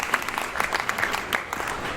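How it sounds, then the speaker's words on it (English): A small audience claps for contestants at a psychiatry innovation pitch event. The claps are moderately loud and individually distinct, with an uneven rhythm over a brief stretch. "Round of applause for all the contestants"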